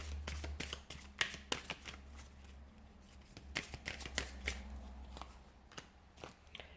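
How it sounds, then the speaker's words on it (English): Angel Answers oracle cards being shuffled by hand, a quiet run of close, crisp riffling flicks and slaps in uneven bursts, with no speech. "I'm just going to pull out just a couple angel answers cards"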